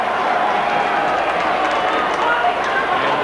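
An unhappy Sydney crowd at a 1992 AFL match against Richmond sends up a dense, constant roar of disapproval from the stands, while a commentator talks over it.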